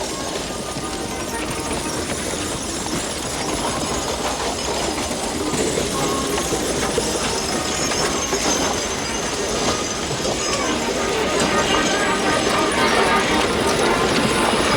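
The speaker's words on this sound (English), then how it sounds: "riding troop always appear with 6 guns, each drawn by 6 horses" Gun teams of the riding troop at the Royal Windsor Horse Show, each artillery gun drawn by six galloping horses, making a continuous rumble of hooves and rolling wheels that stays loud and close throughout.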